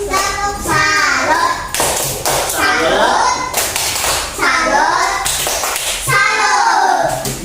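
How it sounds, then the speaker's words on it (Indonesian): A classroom of children claps a rhythmic salute clap in several sharp, loud bursts of quick taps, with young voices chanting between and over the claps. "Ya, tepuk salut untuk suku Jawa."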